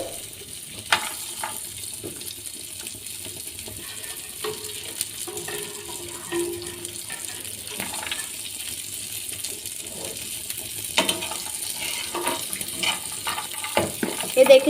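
Dry fruits being roasted in a pan for carrot halwa give a faint, continuous light sizzle, punctuated by scattered clicks and scrapes of stirring, quiet and close without speech.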